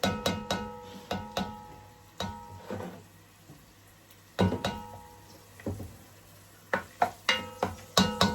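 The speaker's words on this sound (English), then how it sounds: "I'll just let the onions saute for like 2 minutes." A spoon stirs onions in a pan, giving repeated sharp metallic clinks and scrapes in short bursts with pauses between them. A faint sizzle sits underneath, up close in a home kitchen.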